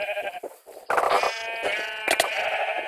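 Sheep in the Minecraft Sheep Quest minigame bleat loudly and close, one call fading out, then a burst of overlapping, quavering bleats that carries on to the end.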